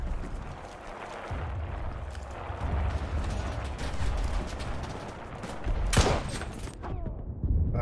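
Gunfire in the World War II shooter game Enlisted, set during the Normandy invasion, rattling as a dense, continuous fusillade with one sharper, louder shot standing out near the end.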